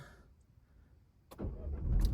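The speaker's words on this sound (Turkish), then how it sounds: "Arabamızı çalıştıralım." A car engine cranks and catches, rising into a steady idle rumble after a quiet stretch, close by with no talking.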